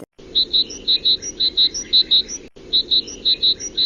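A tit (titmouse) sings in a bright, rapid series of high chirps, repeated in even bursts close by, with a brief pause midway before the pattern resumes.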